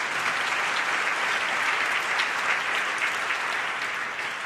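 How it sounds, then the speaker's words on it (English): Audience applause at a food-politics conference fills the whole stretch as a dense, even wash of many hands clapping, easing off slightly toward the end, with no voices over it. "Let's give them a round of applause."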